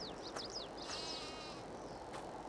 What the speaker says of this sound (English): I've just put 20 fully grown sheep in there